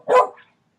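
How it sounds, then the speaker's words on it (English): One short, loud dog bark rings out close by, followed by silence. "Even your dog is pissed off about this, Brandon."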